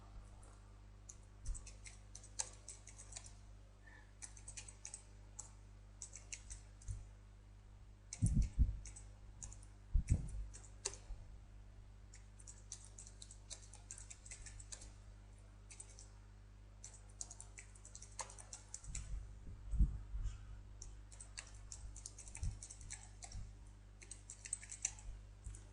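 Quiet mouse clicks and keyboard typing at a computer while a text box is added to a custom thumbnail design, scattered soft taps and a few sharper clicks under a low steady hum, no talking.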